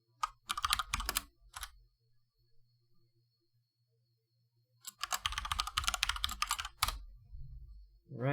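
Two bursts of rapid typing on a computer keyboard while entering a terminal command, close and crisp, separated by a quiet pause with a few scattered keystrokes.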